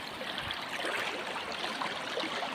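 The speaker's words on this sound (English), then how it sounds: "the flow of the sluice box is rocking around a wee bit" Water rushes steadily through a gold mining recovery sluice box on a rocky stream, making a continuous close, hissing babble with no other sound on top.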